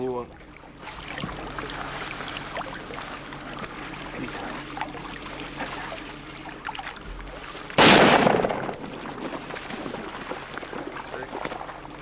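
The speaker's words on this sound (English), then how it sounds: "Oh, Ray, what a shot, buddy" A single hunting rifle shot cracks out loud and sharp during a hunt in the Quebec woods, standing out from a low background of outdoor hiss and faint movement.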